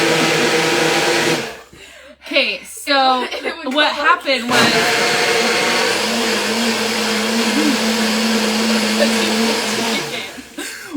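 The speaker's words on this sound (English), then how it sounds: "I had to turn the blender on." A kitchen blender whirs steadily and loud after a brief opening of laughter and a voice, its motor hum running continuously for several seconds before cutting off near the end.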